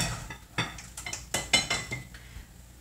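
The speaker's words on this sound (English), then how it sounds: "mix it really well so that it's all even" A utensil scrapes and clinks against a bowl while veggie burger mixture is stirred, producing irregular metallic taps and knocks close by, with no talking.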